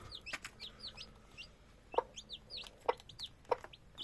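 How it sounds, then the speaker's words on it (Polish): Hens cluck in short bursts while high, thin peeping from newly hatched chicks repeats around them, close by and with no talking. "No i tutaj wracamy jeszcze do pisklaczków"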